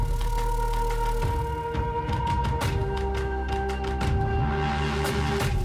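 Reverse reverb swells rise through a layered electronic track, with sustained synth tones and soft percussive hits forming a continuous, fairly loud bed with no voices.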